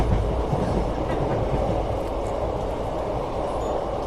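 A passenger train running on rails, heard from inside a carriage as a steady loud rumble with rhythmic wheel clatter throughout.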